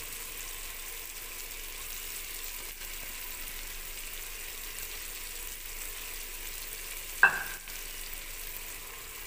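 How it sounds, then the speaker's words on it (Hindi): Cumin, cinnamon and black pepper frying in a pan, a faint steady sizzle with one sharp stir or clatter near the end. "और इसको अच्छी तरह भून लेंगे।"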